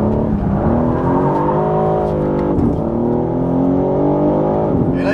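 BMW M3 CS G80 (2023) engine pulling hard under acceleration, a loud rising harmonic howl that climbs through gear changes with brief dips, close and continuous, with no talk.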